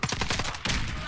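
Imbel IA2 rifle in the shooter game Warface fires rapid automatic bursts, two quick volleys of loud, close gunfire, with no talk.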